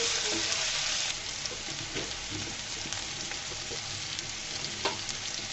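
Eggplant pieces frying in oil in a pan, a loud, dense, continuous sizzle with occasional stirring ticks and spits, close and steady throughout.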